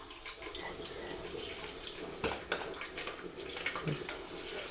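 Tempering seeds dropped into hot oil in a pan over a lit gas stove for a mango-and-tomato dish, giving a steady crackling sizzle with a few sharper pops, close and moderately loud, with no talking.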